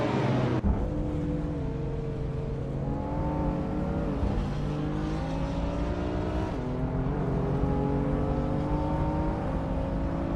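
Racing-game cars roar off the line together at the Camino Viejo de Montserrat start, a classic 2004 BMW M5 on pole; a dense, continuous engine drone with rising revs holds loud and steady throughout.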